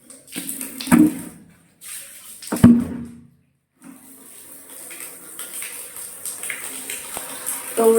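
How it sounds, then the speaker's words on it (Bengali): Water running into a container in a home bathroom, a steady gushing and splashing stream in spells with brief pauses and a few knocks, moderately close, with a little speech. "ওইদিকে বাথরুমের মধ্যে তো আমার জলটা ভরা হচ্ছে"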